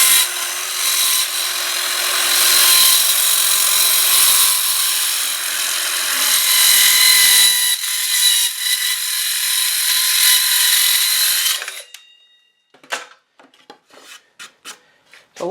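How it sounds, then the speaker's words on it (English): A handsaw rasps through a wood board along a scribed line in a long run of steady back-and-forth strokes, loud and close, then stops, followed by a few sharp knocks and taps. "just cut to the outside of your line and you'll have an accurate cut every time"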